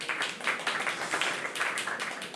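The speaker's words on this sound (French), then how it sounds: "Bravo, on peut l'applaudir." An audience claps for a quiz winner at a podium ceremony, a short burst of light, fairly faint applause with a few scattered claps and no talking.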